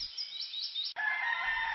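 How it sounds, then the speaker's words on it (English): Roosters crowing in the hilltop countryside of Kongthong village, a short call that breaks off and is followed by a steady bright chorus of bird chirps, moderately loud and continuous, with no talk. "The sounds of roosters crowing, birds tweeting, and broomgrass rustling fill the air"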